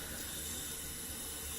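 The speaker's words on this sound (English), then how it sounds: "Warm the razor up a little bit here under some water." Warm tap water runs steadily over a Colonial Brass General chromed safety razor at a sink, a close, even hiss lasting throughout with no talking.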